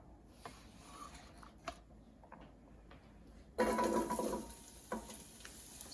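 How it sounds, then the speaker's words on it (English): Carrot pieces stirred in a hot pan while cooking for pasta in vodka sauce: soft scraping taps, then a louder sizzling stir for about a second, followed by a few faint scrapes. "Just give that a quick stir."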